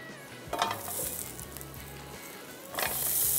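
Potatoes fry in a pan with a steady sizzle and a couple of louder hissing bursts, while a low rhythmic hum runs underneath.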